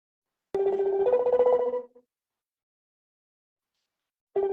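A phone rings twice with an electronic ringtone, one burst of about a second and a half, then silence, then a second ring starting near the end, loud and close with no talk.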